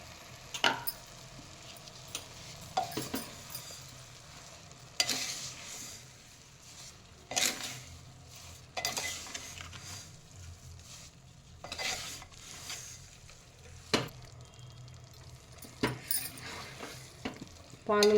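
Grated carrots cook slowly in ghee and milk for carrot halwa, giving a faint low simmer broken by occasional scrapes and clinks of a spoon against the pot; quiet and close, with no talking.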